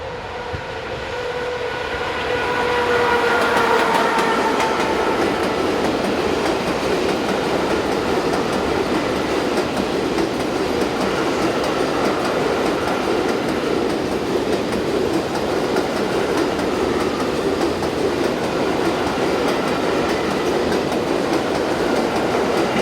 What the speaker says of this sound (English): another 3000 volt electric in the form of 123020 heads north with a train load of Škoda cars